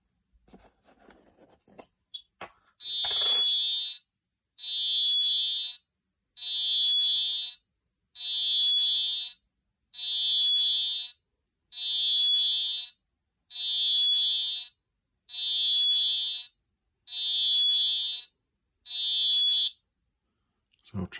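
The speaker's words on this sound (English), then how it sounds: "it'll actually trigger the alarm and the LED will flash" A PIR motion detector alarm sounds ten loud, even beeps of about a second each, steady in rhythm and close by, after a brief patch of handling noise.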